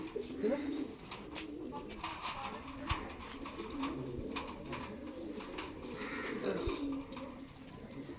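Pigeons coo softly in a steady, low murmur, with scattered chirps and faint flutters around them; the birds sound close and fairly quiet.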